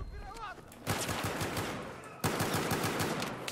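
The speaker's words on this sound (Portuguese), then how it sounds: "Agora eu comecei a ter mais tiro das costas." Gunfire in the shooter game Battlefield 1, loud rapid bursts of automatic shots in two sustained volleys, close and dense, preceded by a short stretch of quieter game sound.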